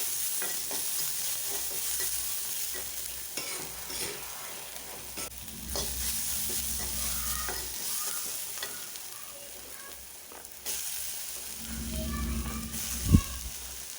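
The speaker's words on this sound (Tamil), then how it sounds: "வரமிளகாய் கிள்ளி போடுறேன், கொஞ்சமாக வெங்காயம் இதை போட்டு வதக்கி" Dried red chillies and onion sautéing and being stirred in a pan, soft continuous sizzle with scraping stir strokes and occasional clinks, close and alone.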